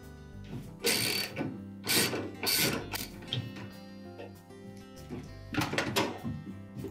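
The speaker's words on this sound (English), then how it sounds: "So using an extension with a ratchet." Ratchet with an extension loosening a 7/16 agitator bolt on a Whirlpool washer, several short, close bursts of rapid metallic ratcheting clicks separated by brief pauses.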